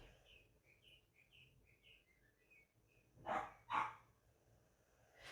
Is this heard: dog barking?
yes